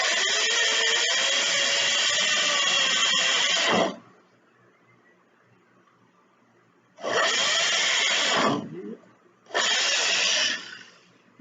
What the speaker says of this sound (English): to use my drill and my drill bit to make pilot holes between my 2x4 and this 1x12